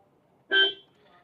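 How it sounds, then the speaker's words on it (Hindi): A Maruti Victoris car horn gives one short, light toot pressed from inside the cabin, clear and close, then fades quickly against a quiet interior. "ये ऐसा है, हल्का सा हॉर्न है।"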